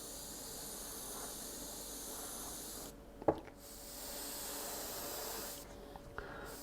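An airbrush sprays thin paint onto a fishing lure at light pressure, a soft steady hiss that cuts off briefly with a small click midway, then resumes quietly.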